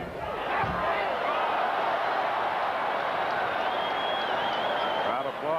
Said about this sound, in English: Crowd applaud